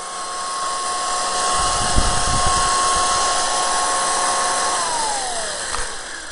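Old electric drill with a hand-tightened chuck, running alone as a loud, steady high whine for several seconds before the motor pitch drops away as it winds down.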